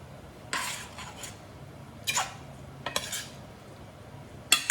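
Kitchen utensils such as tongs, a spoon and a bowl clatter and clink in a few short, separate bursts, close by and moderately loud, with quiet pauses between the handling sounds while fresh pasta is being made.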